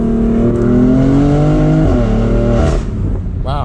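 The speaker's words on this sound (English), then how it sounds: "We'll do a little acceleration here." A BMW M4 Convertible with the top down accelerates hard, its engine note rising steadily in pitch through the gear, loud and continuous, with a quick shift near the end and wind rush around the open cabin.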